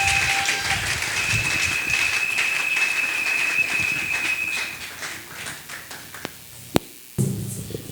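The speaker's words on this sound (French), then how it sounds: "Pendant qu'il avance, nous acclamons très fort." A church convention audience applauds and cheers a speaker as he comes forward: dense, sustained clapping from a large crowd with raised voices, thinning out near the end before a few sharp knocks.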